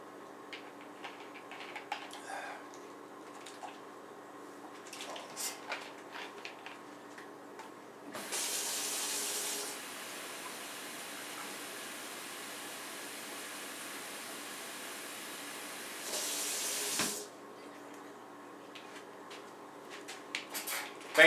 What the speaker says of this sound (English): me getting some water. Gotta have a full glass of water